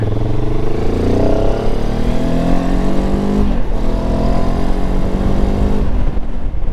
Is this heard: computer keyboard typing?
no